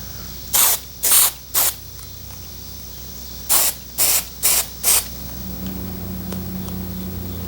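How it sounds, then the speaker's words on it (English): An aerosol can of spray adhesive hisses in short bursts onto the rib ends of a motorcycle seat being reupholstered: three quick sprays, a pause, then four more, followed by a low steady hum. "I'll spray some adhesive down along the ends of these ribs"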